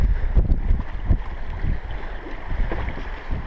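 Strong wind buffets a kayak approaching a lighthouse at night, a continuous low roaring rush with gusty swells and water movement, close to the microphone and without voices.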